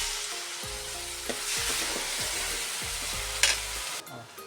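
Gobi manchurian sizzles steadily in a hot pan as tomato sauce goes in, with a spoon scraping and stirring in short repeated strokes and a brief clatter near the end.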